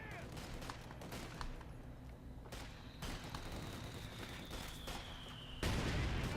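Stovepipe mortar fire in a Company of Heroes-style real-time strategy battle, Wehrmacht against US Forces, with rounds landing on infantry pioneers: repeated booming shots and impacts over dense battle din, ending in a heavy close blast.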